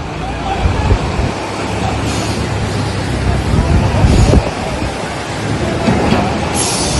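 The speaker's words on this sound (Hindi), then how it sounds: "एम्बियंस भी सुनवाइए। पानी का रौद्र रूप किस तरह से डरा रहा है।" Floodwater roars through a swollen river around a stranded bus bound for Haridwar, a loud, unbroken rushing wash, close and dense, with surges in the flow.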